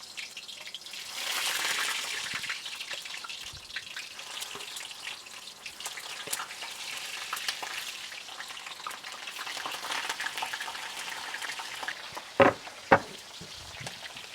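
Sausages and french fries fry in oil in a pan, with a soft, steady sizzle throughout and a couple of sharp pops or knocks near the end.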